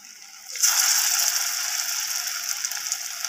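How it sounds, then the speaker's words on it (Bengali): Round cabbage fritters dropped into hot oil in a wok burst into a loud, steady sizzle about half a second in, after a quiet start, and keep crackling and hissing close up with no talking. "এরপর আমি বড়াগুলোকে গোল গোল শেপের করে আমি তেলের মধ্যে ছেড়ে দিচ্ছি।"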